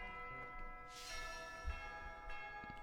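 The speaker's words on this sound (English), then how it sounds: "I like how the bell does that music." A church bell in Fire Emblem: Three Houses rings out a musical chime, its long sustained tones overlapping and slowly decaying, quiet and alone.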